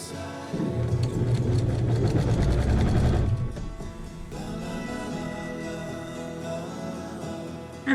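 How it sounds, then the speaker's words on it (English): A sewing machine chain-stitches Dresden quilt pieces, running in a steady loud whir for a few seconds before stopping, then quieter mechanical humming continues. "I'm just chain stitching these."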